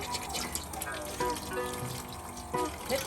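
Water runs steadily from the faucet of a homemade toddler sink while hands are washed, with soft splashing and a few intermittent voices.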